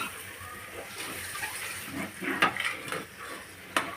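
Tomatoes are stirred into fried spices in a cooking pot for chicken biryani, with irregular scraping and light metallic clatter at moderate loudness over a soft sizzling, watery background.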